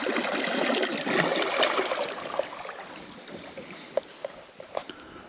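A kayak moves down the rocky Venta river in autumn. Rushing water and splashing fill the first half, then the flow calms and a few distinct paddle splashes and drips stand out nearby.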